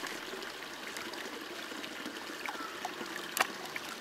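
Water gently rolling and washing gravel and sediment around a gold pan outdoors, a soft steady trickle with faint swishes and one brief splashy tap near the end.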